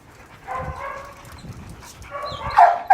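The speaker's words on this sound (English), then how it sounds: "to see what he does with all of these dogs at once" Several dogs greeting and socializing at once around a dog named Zeus, with soft whimpers, yips and snuffling building to a couple of louder, closer barks near the end.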